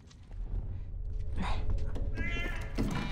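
A cat meows in The Last of Us: Left Behind, a few short, fairly loud cries over game ambience and a talking voice.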